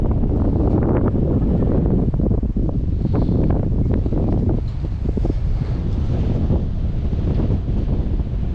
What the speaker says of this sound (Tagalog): hangin lang talaga.